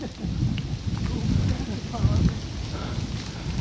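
Heavy rain on Mount Burangrang, in thick fog and strong wind, falls as a dense rushing wash with low rumbling gusts that swell and ease throughout, close and fairly loud, with no clear voices.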